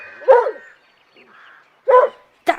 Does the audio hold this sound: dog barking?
yes